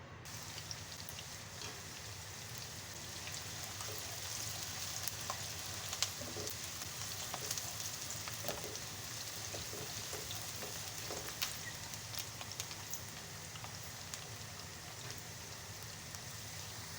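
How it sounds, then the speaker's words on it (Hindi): Onions frying in a pan give a steady, even sizzle and crackle with scattered pops, continuous and close throughout with no voices. "प्याज को फ्राई कर लेते हैं।"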